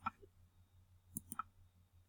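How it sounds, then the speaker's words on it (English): A few faint, sharp clicks of a computer mouse on a quiet desk, spaced irregularly over a low steady hum. "So I'll go ahead and click Continue."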